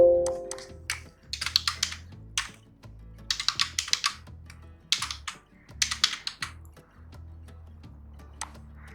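Computer keyboard keys clacked in quick bursts while entering a sequence name in an automation program, close and fairly quiet, with short pauses between runs of keystrokes over a low steady hum.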